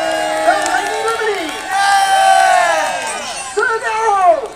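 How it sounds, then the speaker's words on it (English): A crowd cheers at the Berry Celtic Festival, a loud close mass of shouts and whoops in waves with a few higher voices rising above the rest. "Can I have a cheer for Sir Justin?"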